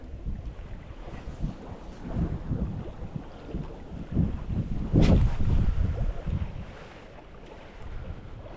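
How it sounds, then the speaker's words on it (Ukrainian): Steady wind buffets the microphone outdoors in an orchard during apple picking, a continuous low rumbling roar with gusts swelling midway, heard alone without talk. "Вітер в цю сторону летить не дуже"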